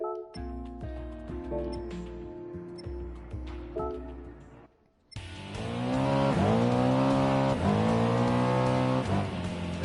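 A car engine in a PS4 game hums quietly, then roars into loud, sustained revving with rising and falling pitch as it accelerates.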